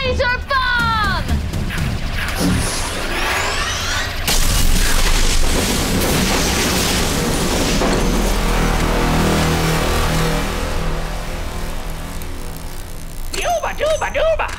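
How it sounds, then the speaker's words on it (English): A laser bomb sound effect from the TV comedy Community: a long, loud booming blast with roaring rumble fills most of the span, framed by people talking and squealing voices at the start and end. "Laser bomb!"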